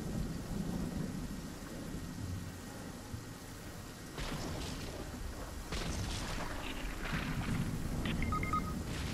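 Storm ambience in the video game Fortnite, a steady low rumbling wash of wind and rain-like noise with crackling surges, continuous and fairly loud throughout.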